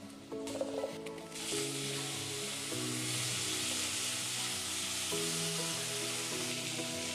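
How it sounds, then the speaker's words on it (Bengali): Raw green banana and potato stir-fried in a pan of hot oil, a steady loud sizzle with scraping stirs and occasional clinks of the spatula throughout, no talking. "কাঁচা কলা আলুকে খুব ভালোভাবে নেড়ে নেব।"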